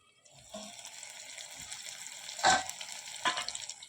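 Pointed gourd and potato pieces fry in a pan, a soft continuous sizzle with a couple of louder sputtering bursts, close and fairly quiet.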